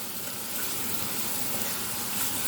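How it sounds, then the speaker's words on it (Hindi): Meat stock (yakhni) poured a little at a time into a mutton karahi with tomatoes, giving a steady soft hiss of liquid meeting the hot pan, continuous and fairly quiet with no talking. "साथ साथ यखनी का पानी भी हल्का हल्का डालती रहूँगी।"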